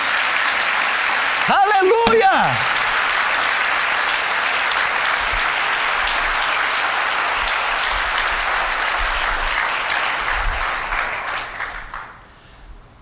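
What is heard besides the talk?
congregation applauding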